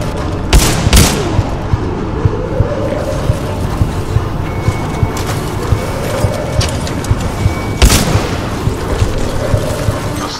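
Sharp gunshots crack in Titanfall 2 during the Blood and Rust mission, a few loud isolated bursts separated by pauses over a rumbling industrial background.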